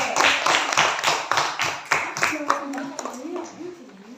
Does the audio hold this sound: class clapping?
yes